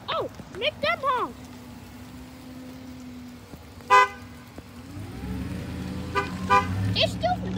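A short car horn toot sounds near the middle, with a vehicle rumbling past afterward. Children's voices chatter before and after.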